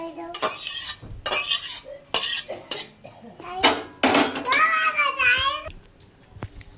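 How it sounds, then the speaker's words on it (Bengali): A spatula scrapes and clanks against a pan while meat curry cooked with Malabar spinach is stirred, in several close, loud bursts with a faint sizzle and some background vocal sounds. "এবার আমি নামিয়ে নেব একটু নেড়ে।"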